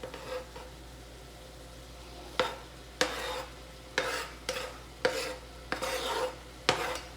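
Sausage for a keto jambalaya browning in a pan, a low sizzle broken by a series of sharp scraping stirs at an uneven pace, close and alone.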